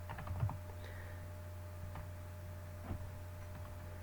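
A computer keyboard is tapped during AutoCAD drafting, a few faint soft key clicks over a steady low electrical hum, with no talking.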